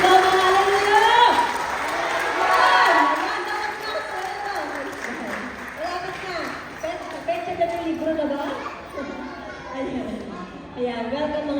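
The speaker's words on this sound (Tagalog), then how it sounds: "pumalakpak na malakas at sinugaw ng hallelujah!" A worship service congregation claps and shouts loudly, with crowd voices rising in overlapping cheers and calls over the steady clapping.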